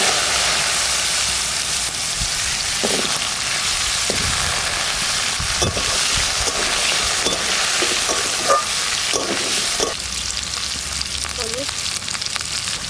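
Bay leaf and cumin tempering sizzling in hot oil, a steady loud frying hiss throughout with occasional stirring clinks and scrapes.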